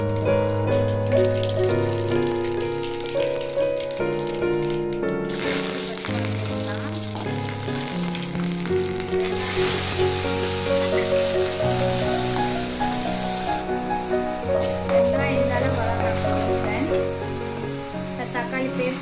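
Mustard seeds hit hot oil in a preheated kadai and sizzle in a continuous crackling hiss, heard under loud background music throughout.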